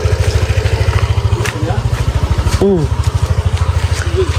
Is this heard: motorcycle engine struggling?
yes